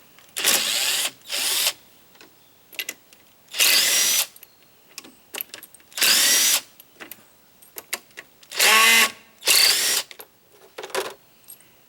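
Hand wrench or ratchet loosening 8mm screws on the carburetor of a Husqvarna YTH24K48 riding mower, heard as several separate bursts of close, loud ratcheting and clicking, alone with no talk.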